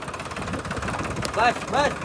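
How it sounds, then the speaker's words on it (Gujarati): A tractor engine runs with a steady low, mid-pitched rumble that stays audible while people talk over it. "ટ્રેક્ટર આવી ગયો"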